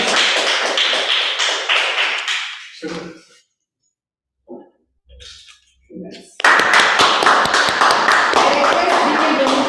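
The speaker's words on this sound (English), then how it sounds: "Big round of applause." Toastmasters club audience clapping for a best-speaker winner, a loud burst of applause at first, then a lull with brief sounds, then a second strong round of clapping that runs to the end.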